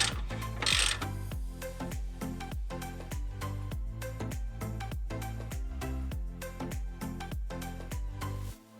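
Wrench taking a 17mm nut off a rear suspension bolt on a Nissan 350z, heard as a rapid, steady series of sharp metallic ratchet clicks running throughout, loud and close.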